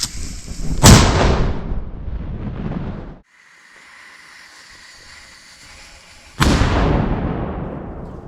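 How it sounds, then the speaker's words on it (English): Two loud black powder cannon blasts in the Arkansas Ozarks backcountry, each a sharp boom followed by a long rolling decay, separated by a stretch of quiet wind-like hiss. "a black powder charge is prepared for his cannon."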